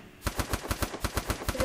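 MP5 submachine gun firing in the mobile shooter game Free Fire: a fast, steady burst of about ten evenly spaced sharp shots, loud and close, with no talking.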